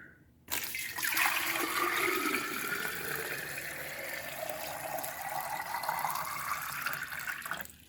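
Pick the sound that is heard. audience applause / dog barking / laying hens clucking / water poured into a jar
water poured into a jar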